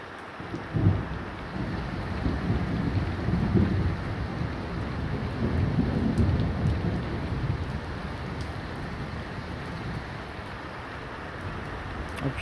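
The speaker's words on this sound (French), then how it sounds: "il pleut au travers maintenant" Heavy thunderstorm on 12 March 2025 with steady, dense rain hissing throughout and low rumbling thunder swelling and fading in the background; no voices.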